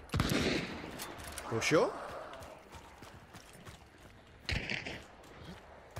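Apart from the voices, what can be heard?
Winfield rifle gunfire in the video game Hunt: Showdown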